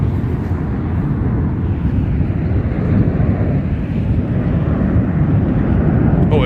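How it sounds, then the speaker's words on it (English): An airplane flies over Las Vegas as a loud, steady low roar with wind rumble, continuous and close throughout. "Let's wait for some planes to come."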